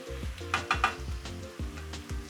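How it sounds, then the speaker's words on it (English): Butter melting and being stirred in a pan while building a roux for Japanese doria, with a steady soft sizzle and a few quick scraping stir strokes, over a low tonal musical backing. "Add in the butter and give it a stir to melt it in."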